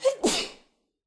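A single loud sneeze up close: a sharp intake and then an explosive burst that quickly fades to silence.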